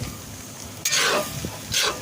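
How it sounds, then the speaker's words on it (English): Ground beef browning in a pot on a grill for chili, the fat mostly cooked off: a steady low sizzle runs throughout, with two louder bursts of stirring and frying noise near the end. "we've been cooking here now for about 20 minutes or so. The beef is pretty much brown."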